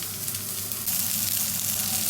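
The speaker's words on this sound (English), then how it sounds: "By just putting this on a medium heat, just keep stirring this and cooking it through." Tomato puree sizzling in a pan over medium heat while being stirred, a steady close frying hiss that swells slightly partway through, with no talking.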